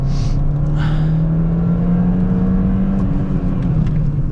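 A Peugeot 206 engine drones loudly and steadily up close, holding a constant rumble with slight shifts in pitch as it drives through corners.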